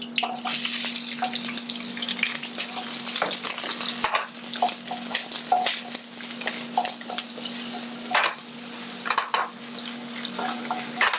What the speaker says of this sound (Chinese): 那我们现在把洋葱炒一下之后 最主要是让它香气出来